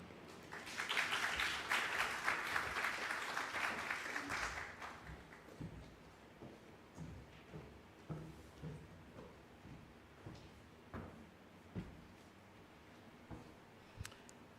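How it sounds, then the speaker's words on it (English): Audience applause rises at the close of a speech at a finance lab launch, a dense, loud patter for about four seconds before fading into scattered claps and quiet room noise. "Another round of applause, please."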